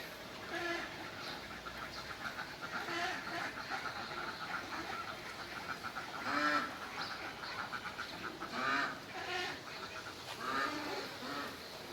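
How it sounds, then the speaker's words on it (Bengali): Local domestic ducks quack repeatedly at a fish seller's place, a loose chorus of nasal calls rising in bursts over a low background hum, moderately near. "এখানে দেশি হাঁস দেখা যাচ্ছে।"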